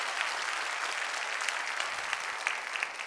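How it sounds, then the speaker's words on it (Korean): Congregation in a Korean church applauds its young adults with a big round of clapping, a steady, even crackle of many hands heard from a little distance at moderate volume. "우리 성광교회 청년들을 위해서 다시 한번 큰 박수 한번 해주시기 바랍니다."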